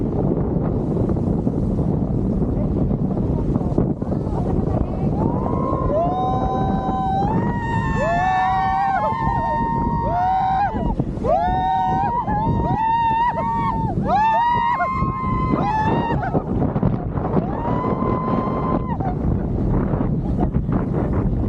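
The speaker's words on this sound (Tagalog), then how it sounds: "Ito, ang sarap ng hangin." Steady wind buffets the microphone on a moving banana boat, with water rushing below while voices call out and whoop over the noise.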